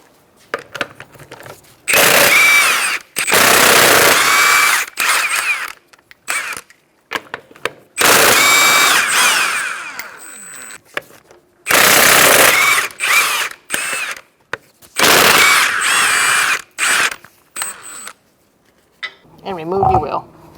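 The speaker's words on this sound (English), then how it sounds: "Using a 21mm socket, we're going to take off our wheel." Power tool with a 21mm socket spinning off the wheel nuts of a Kia Soul, several loud buzzing bursts of a few seconds each separated by short pauses.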